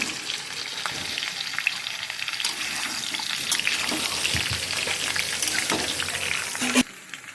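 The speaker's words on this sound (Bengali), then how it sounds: "তো সব আনাজগুলো একটু ভাজা ভাজা হয়ে গেছে" Vegetable stalks, carrot and potato fry in a pan with a loud, continuous sizzle, broken by occasional scrapes and clinks of stirring.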